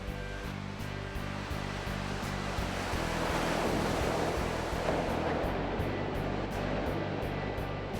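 A huge steel wall driven by hydraulics generates a simulated rogue wave in a test tank, giving a steady, loud rush of surging water and broadband noise throughout with no speech.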